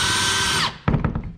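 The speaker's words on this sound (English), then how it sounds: "Any bit's gonna work fine." A power drill bores a 1/2 inch hole through a kayak hull with a Minn Kota bit, giving a loud, steady whine that cuts off after under a second, followed by a few close handling knocks.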